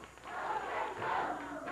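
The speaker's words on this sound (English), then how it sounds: "Go, Jeff, go, the crowd says" A wrestling crowd at a 1989 CWA Memphis show chants together, a loud, sustained roar of many voices in an arena.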